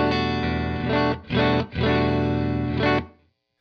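Electric guitar amp played through a Suhr Reactive Load, a distorted, sustained chord tone that swells and cuts out twice before ringing on and stopping, loud and close with no talking.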